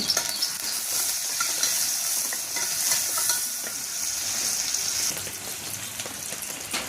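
Curry leaves and onion frying in a pan, a steady bright sizzle with occasional stirring scrapes, close and continuous throughout.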